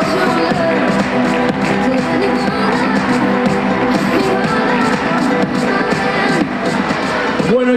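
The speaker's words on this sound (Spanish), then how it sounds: "Un fuerte aplauso, ¿no? El aplauso." Audience at a summer fair team presentation giving a strong round of applause, steady dense clapping with cheers and whoops mixed with crowd noise.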